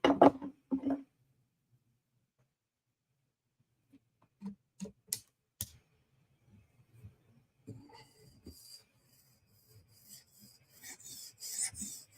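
A Benchmade 940 knife is sharpened on a 400 grit stone in a TSProf Kadet guided sharpener: a few early clicks, then quiet, intermittent rasping strokes of the blade across the stone, with no talking.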